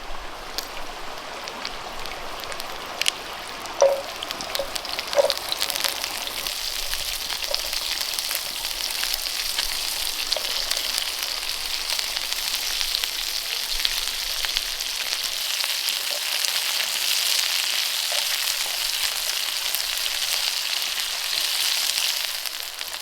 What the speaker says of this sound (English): I'm just going to start frying off the asparagus.